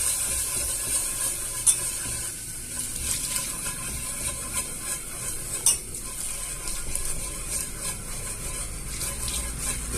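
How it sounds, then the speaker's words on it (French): Milk is stirred into a cooked roux off the heat, with a soft bubbling hiss, occasional utensil scrapes and two sharp clinks against the pot, fairly quiet throughout. "on incorpore le lait en remuant"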